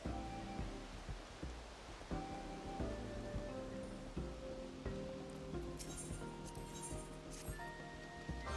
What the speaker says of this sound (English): Does it have to be raining everywhere I fucking go, bro?